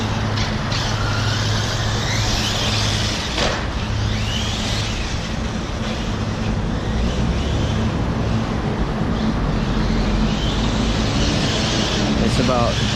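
A Hobao Hyper VSE RC car drives on a track at about three-quarter throttle, giving a constant rough motor and tire roar throughout, loud and near.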